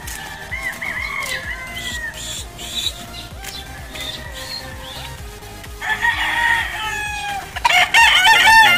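Chickens and roosters at a Filipino gamefowl breeding yard, several birds clucking and crowing close by, with a loud, crowded burst of crowing near the end.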